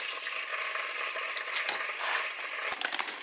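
Butter sizzles and crackles steadily in a hot pan already holding fat, the base for a Thanksgiving gravy roux, with a few sharper pops and a stir or scrape near the end, close and alone.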